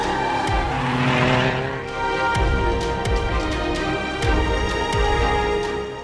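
A car skids with squealing tires in a tense drama scene, a loud sustained screech with engine roar, rising and falling over about six seconds with brief dips.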